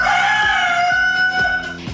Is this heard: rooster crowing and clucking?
yes